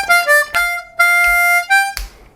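Harmonica playing a short 12-bar blues lick, with sustained bright reedy notes and bends in a few separate phrases, close and clear with no talking.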